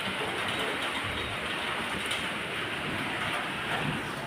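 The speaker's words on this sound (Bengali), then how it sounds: "হয়েই যাচ্ছে বৃষ্টি" Steady rain falling outside a home, a dense, even hiss that continues unchanged throughout without pauses or voices.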